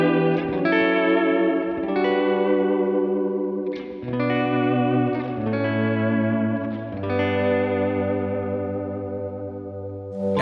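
Electric guitar played through a volume pedal and Bluetooth multi-wah: sustained chords and notes swell in, ringing with chorus-like shimmer and light distortion, steady and close, with no voices.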